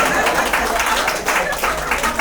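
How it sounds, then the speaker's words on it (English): A small poetry-night audience claps and cheers together in a continuous burst of applause, fairly close and lively throughout. "Give yourself a round of applause real"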